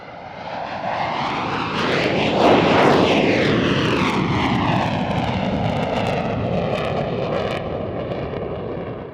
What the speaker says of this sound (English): a very welcome and unusual airshow appearance from the VC-10